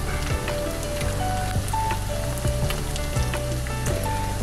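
Egg frying on crispy sisig made from pork loin and ears, a steady dense sizzle with crackling pops throughout, close and even, no talking.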